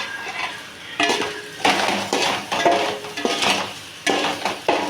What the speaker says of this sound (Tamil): நல்லா அப்படியே இந்த மசாலாவில் பிரட்டி எடுத்துடலாம்